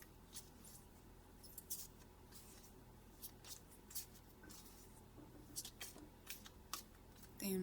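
Tarot cards being handled and drawn from a deck, soft papery swishes, slides and light taps scattered at an uneven pace, close and quiet, with faint murmuring in the background.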